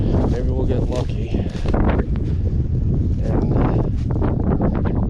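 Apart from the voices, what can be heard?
wind blowing in the woods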